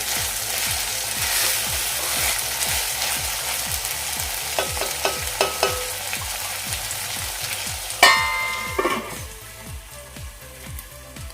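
Peas and cauliflower sizzling in a pan for cauliflower matar masala, a run of regular scraping stirs over a soft hiss, then a sharp metallic clank before the sizzle quiets.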